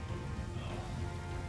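Rain falling in the video game Total War: Three Kingdoms, a soft, steady pattering wash, faint and even throughout.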